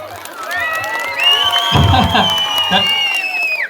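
A school annual day audience breaks into cheering and clapping, a loud, near crowd roar with children's shouts and whistles swelling over a voice speaking over a microphone.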